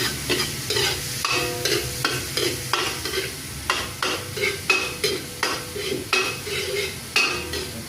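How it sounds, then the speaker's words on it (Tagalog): Garlic frying in a pan while being stirred, with a steady loud sizzle broken up by repeated scraping and clinking of a utensil against the pan, close up and without talk. "Magpa-fry po muna tayo ng bawang, garlic."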